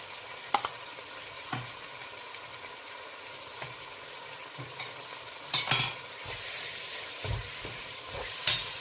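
Curd being stirred into prawn biryani masala in a pot, with irregular scraping and stirring strokes over a soft background, a few louder scrapes toward the end.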